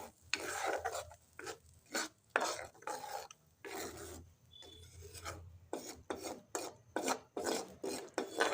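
Tomato paste being stirred into a frying mixture in a pan, with repeated rasping scrapes of a spoon against the pan in uneven strokes and short pauses, close and quiet.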